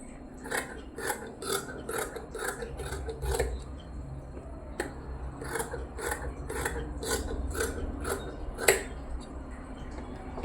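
Scissors cutting cloth for a rabbit-ear baby cap, a run of crisp, evenly spaced snips close up that pause briefly and then continue, with no talking.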